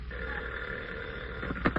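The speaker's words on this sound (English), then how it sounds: "the phone's been going all day" An old 1949-era household telephone rings in a steady, continuous, slightly muffled tone, ending with a few clicks.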